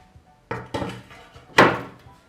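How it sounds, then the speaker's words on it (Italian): A refractory pizza stone slid out of an Effeuno P134HA electric pizza oven: a few knocking scrapes and clunks of stone against metal, then a louder bright scraping clatter, close by and with no talk. "togliamo la pietra refrattaria"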